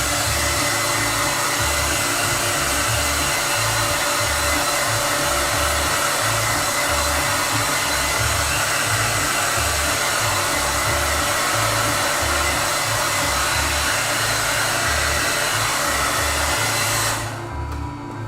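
A blow dryer runs continuously, loud and close, warming an airbrushed flame and flag paint design, a steady whooshing roar with a slight wavering hum, cutting off just before the end.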